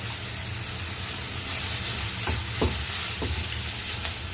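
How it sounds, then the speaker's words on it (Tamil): Shallots and freshly grated coconut sauté in hot oil in a pan for a vegetable kootu, giving a steady close sizzle and hiss with a few light spatula clicks and scrapes. "இது நல்லா வதங்கட்டும் வெங்காயமும் தேங்காயும் நல்லா வதங்கணும்"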